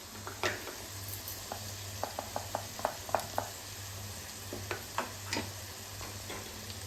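Tomato paste is added to a spice masala frying in a pan for spicy unripe jackfruit curry, giving a steady soft sizzle with a string of light scraping clicks from stirring; no one speaks.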